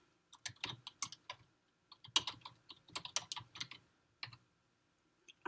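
Keys clatter on a computer keyboard in quick uneven bursts with short pauses, close and clear, with no talk over them.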